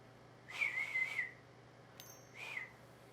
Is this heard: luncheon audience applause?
no